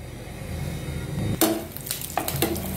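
Butter melting and sizzling in a pan for sweet corn soup, a soft steady fizz that swells into sharper crackles and a few metallic scrapes and clinks of a spoon against the pan.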